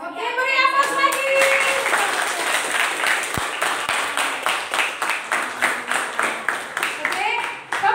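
Audience applause in a group setting such as a classroom, with voices at the start, then a steady run of rhythmic, evenly spaced group claps that carries on to the end.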